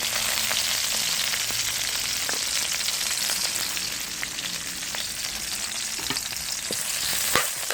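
Garlic sizzles steadily in hot oil in a pan, a dense continuous frying hiss with occasional small pops and stirring clicks, close and fairly loud throughout.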